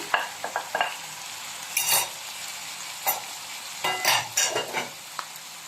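Mushrooms fry in a pan for beef salpicao, a steady sizzle broken by repeated scraping and stirring bursts of utensil on pan, close and fairly loud with no talking.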